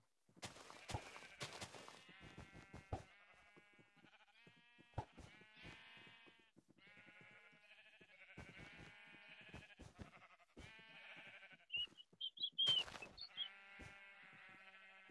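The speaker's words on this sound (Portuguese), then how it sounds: "Tem uma ovelha amarela." Sheep in the video game Minecraft bleating repeatedly in short buzzy calls that overlap, along with a few sharp clicks, close and moderately loud, with no talking.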